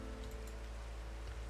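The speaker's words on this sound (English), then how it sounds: "I really should take a nap to get rid of the rain." Steady rain falls in the Minecraft vanilla game world, a soft, continuous pattering hiss at low level with no voices.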